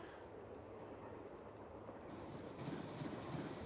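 A train runs in the Nancy Drew: Last Train to Blue Moon Canyon video game, a quiet continuous rumble with light scattered clicks, swelling slightly toward the end, with no voices.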